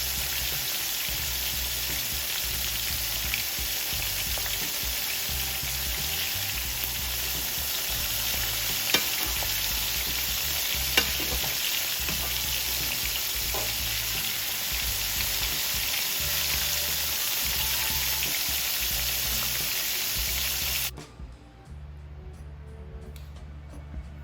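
Shrimp deep-fry in hot oil until crispy, a dense, steady crackling sizzle that runs close and continuous for about twenty seconds before abruptly dropping away to quiet.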